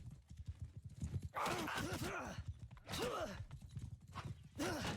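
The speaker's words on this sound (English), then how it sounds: "So I'm gonna hop off my horse here." Horse hooves clip-clop in Mount & Blade II: Bannerlord, a steady run of close, crisp hoofbeats with occasional whinnies and game sounds, no talking.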